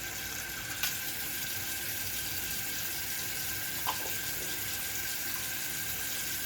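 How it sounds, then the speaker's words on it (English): A sink tap runs steadily, a constant close rush of water filling the basin, with a couple of faint clicks and no talking over it. "let me just let the water run"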